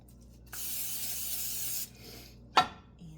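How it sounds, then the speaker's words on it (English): Olive oil cooking spray hisses steadily onto a kitchen pan for about a second and a half, close and fairly soft, followed by a sharp clack of the can or pan. "I'm gonna spray my pan with some olive oil"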